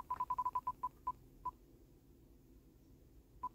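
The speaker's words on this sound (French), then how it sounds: "On va faire tourner une roue et on va voir ce que la roue va nous dire." A random picker wheel spins, giving a quick run of sharp, faint ticks that spread farther apart as it slows, then one last isolated tick after a pause.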